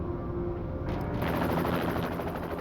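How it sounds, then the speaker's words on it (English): A helicopter carrying a prisoner gives off a steady, dense rotor thrum with a rapid chopping pulse. The sound holds at an even, fairly loud level with no speech over it. "a chopper transported the prisoner to a secure location"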